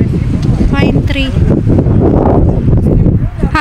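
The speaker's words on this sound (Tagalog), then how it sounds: "Mainit siya pero sobrang lakas ng hangin." Strong springtime wind in France buffets the microphone near pine trees, roaring and gusting loudly over someone speaking.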